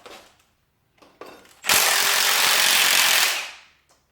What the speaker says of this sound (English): one of the other things we could take out while we're doing all this is that front bolt in the block